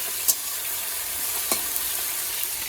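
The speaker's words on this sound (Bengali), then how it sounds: "এখানে যে বাটা মাছ ভাজতে বসিয়ে দিয়েছি" Bata fish fry in a pan with a dense, even sizzle from start to finish, close by, marked by a couple of sharp spatters and small pops and no talking.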